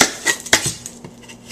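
A kitchen knife cuts into a whole onion to take off its skin, giving a few sharp, close knocks against the board with quiet gaps between them.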